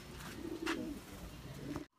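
Racing pigeons coo softly in a loft, giving low, murmuring coos over a steady background hiss. The sound stops abruptly at the end.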